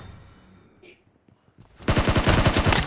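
Bursts of rapid video game gunfire erupt loudly after a near-silent stretch, a dense automatic rattle continuing to the end during a team match with the red side close to winning.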